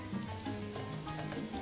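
Shrimp cakes deep-frying in hot oil, a dense, steady crackle and sizzle heard close up for a brief moment, with no voices.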